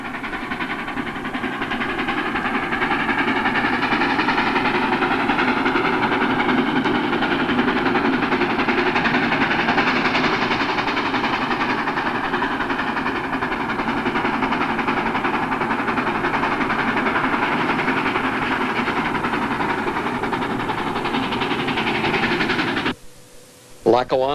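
K-4 Pacific steam locomotive pulling a train, a loud continuous rumble and clatter of the engine and cars running steadily for most of the stretch before cutting off abruptly near the end.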